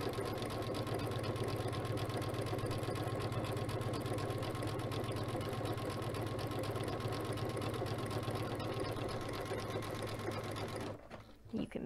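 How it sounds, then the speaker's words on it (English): A sewing machine with a circular sewing attachment runs a zigzag stitch, a steady rapid mechanical chatter close by for about eleven seconds before stopping abruptly. "You can also do your standard zigzag stitch."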